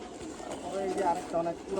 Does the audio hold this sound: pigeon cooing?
yes